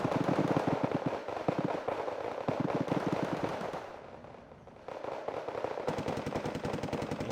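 Rapid machine-gun bursts and bombing-run gunfire from the Wargame video game roar continuously, with dense rattling volleys, a brief lull in the middle, then renewed sustained firing, loud and close.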